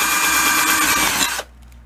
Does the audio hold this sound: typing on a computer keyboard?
no